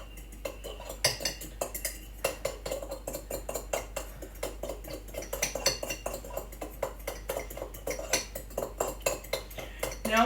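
A spoon beats milk batter in a mug for cake, a steady run of quick metallic clinks and scrapes against the mug, close and fairly loud with no talking.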